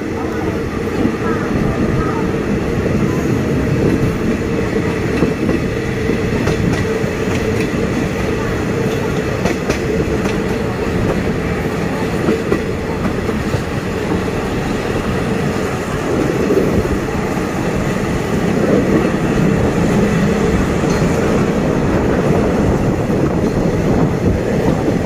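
Passenger train rolling on rails through a curve near Photharam in Thailand, heard from inside as a steady loud rumble and rattle with faint clickety-clack, continuous for the whole stretch without pause.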